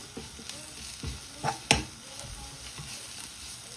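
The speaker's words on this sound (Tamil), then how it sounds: "இதையும் வந்து நல்ல வடிவாக அப்படி மிக்ஸ் பண்ணுவோம்" A spoon stirs spices into a sautéed mixture for chicken patty filling, with several scraping knocks over a soft, steady pan sizzle; no one speaks.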